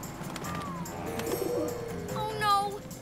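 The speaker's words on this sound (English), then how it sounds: "Oh no! A bird!" Cartoon bird cooing like a pigeon or dove in a children's superhero animation, a few soft warbling coos over steady background music and effects.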